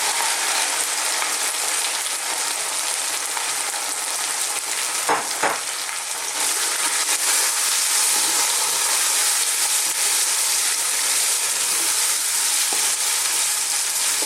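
Steady, loud sizzling of onions frying in a hot pan, a constant crackling hiss with a brief clatter of stirring partway through.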